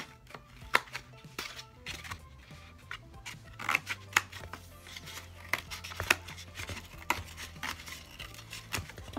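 Scissors cutting the lid off a cardboard egg carton in close, irregular crunching snips and tearing rasps that come in quick runs with brief pauses between them.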